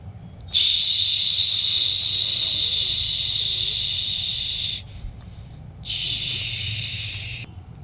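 Mustard greens hit a hot pan, giving a loud, sharp hissing sizzle that holds for about four seconds, stops briefly, then flares again.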